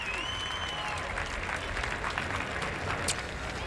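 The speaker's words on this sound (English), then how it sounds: "You hear the fans applauding" A crowd at a 2004 NASCAR stock car qualifying session for the MBNA 400 applauds after a driver climbs out of his wrecked car, a dense, sustained patter of clapping from spread-out fans in the grandstands.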